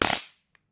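A flashlight-style taser fires a short, loud electric snap at close range that dies away within a fraction of a second, followed by one tiny faint click and then quiet.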